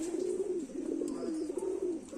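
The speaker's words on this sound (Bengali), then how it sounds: "এটা ফুলশিরা পায়রা আছে" A Fulshira pigeon coos close by, a low, rolling, throaty murmur that carries on steadily without pause, with no voices over it.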